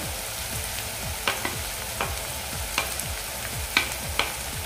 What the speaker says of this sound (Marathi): आता मिरच्या घालते।